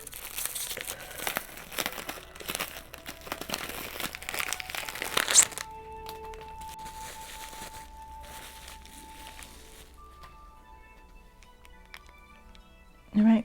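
Cheap thin plastic bag around a small anime figure crinkling and tearing as it is peeled open, close and busy for several seconds before going quiet, with a voice briefly at the end.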